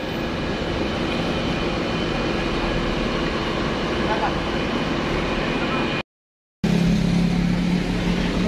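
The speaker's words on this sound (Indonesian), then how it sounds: "Ini bis kedua yang berangkat dari Klender hari ini." Bus departing from the Klender bus terminal, a loud, steady engine rumble with broad road and idling noise, interrupted by a brief cut before continuing.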